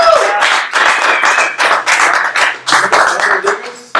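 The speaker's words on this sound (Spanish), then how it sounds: "Un aplauso, por favor." Audience applause on a Fresno show hosting cast members of a locally made film, a few seconds of close, crisp clapping with distinct individual claps and small pauses, no talking over it.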